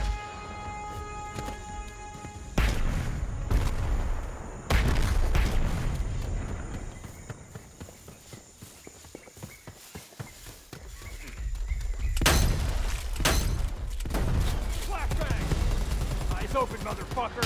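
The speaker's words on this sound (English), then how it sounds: "Tossing a frag!" Gunfire and a frag grenade blast in the Predator: Hunting Grounds video game, with loud broadband bursts, rapid crackling shots and heavy low rumbles rising and falling throughout, near and dense.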